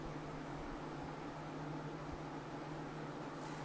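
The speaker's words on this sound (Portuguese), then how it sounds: "Porque eu tô com o ventilador ali ligado." An electric fan runs in a room, giving a steady, even whir with a low hum that never changes. It is moderately quiet and heard alone, with no speech.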